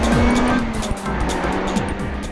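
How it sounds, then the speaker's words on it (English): An Evonik Lotus prototype race car on a racetrack, its engine a loud, steady drone with a shifting pitch for a few seconds. Faint tire noise comes through and no one speaks. "A Lotus prototype on the racetrack."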